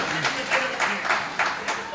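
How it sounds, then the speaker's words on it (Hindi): Applause from an audience at a Hindi poetry recital, a dense wash of clapping that rises and falls in bursts, with some voices mixed in. "तो एक बार तालियां तो मनोज गर्ग के लिए बनते, मोनो भाई के लिए बनती।"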